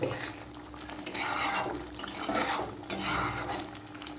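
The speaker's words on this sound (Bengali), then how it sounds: "এবার ভাজা ডিম দুটো দিয়ে দেবো দিয়ে এটা ভালো করে নাড়িয়ে নেব" Thick lentil dal with fried eggs stirred in a pot, a soft, close scraping of a spoon against the metal in slow repeated strokes over a faint simmer, with no talking.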